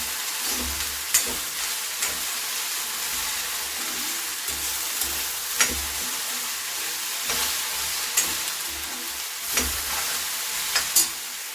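An okra stir-fry with salt sizzles steadily in a pan while a spatula scrapes and taps through it. The strokes come at a fairly regular pace, about every second or two, close by.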